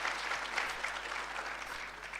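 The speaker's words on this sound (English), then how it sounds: "Can we give him a round of applause, please?" Conference audience at a national ICT summit clapping for a judge being introduced, a brief, moderately distant burst of applause holding steady for a couple of seconds.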